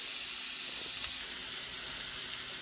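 Steak and corn on the cob searing in a cast iron pan, a steady close sizzle and hiss with no break.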